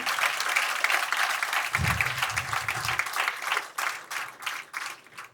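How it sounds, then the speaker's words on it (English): A crowd at a school music event applauds steadily with dense clapping, while a brief low murmur sounds underneath partway through before the clapping thins out. "can we please give them a round of applause, Andy?"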